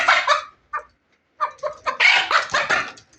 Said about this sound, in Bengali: মোরগকে দিয়ে দেবো ওই খাঁচায়।